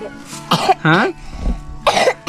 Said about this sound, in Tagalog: Tignan mo, inuubo ka pa.